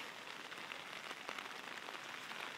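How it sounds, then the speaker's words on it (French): Steady moderate rain patters on a surface over flooded ground, a dense even hiss of drops with no pauses and no voices. "Et encore, il pleut modérément."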